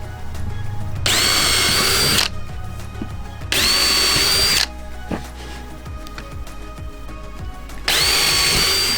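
A power drill bores holes through a wooden board for the bottom of a duck box. It runs three times, each a loud, steady, high whine lasting about one to two seconds, with quieter handling noises in the pauses.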